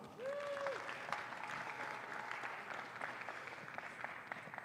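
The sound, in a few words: applause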